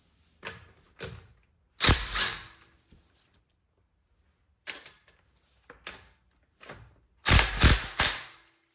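A wrench breaks loose the wheel bolts on a Porsche 911, giving scattered metallic clicks and clunks in separate bursts, the loudest near the end, with quiet gaps between.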